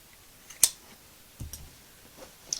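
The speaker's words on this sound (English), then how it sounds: "we can trim these tag ends from making our loop in the first place" Sharp scissor snips trimming the tag ends of a rope close to the knot, a few isolated crisp clicks spread out with quiet pauses between them, close and fairly soft.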